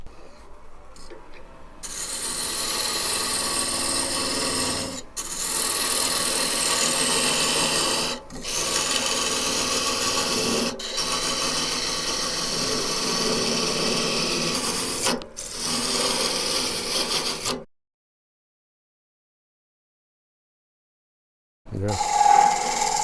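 A wooden tenon turned on a lathe gives a steady close rasping, scraping cut in long passes broken by brief pauses, then a few seconds of silence before the cutting resumes.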